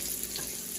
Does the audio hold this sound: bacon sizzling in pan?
yes